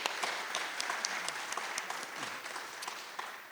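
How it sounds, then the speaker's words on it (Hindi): An audience claps enthusiastically at a Haryanvi stage event on Kabir's life and music, with dense, even applause and a few sharper claps throughout. "तो एक शानदार तालियों के साथ अब शुरू करते हैं"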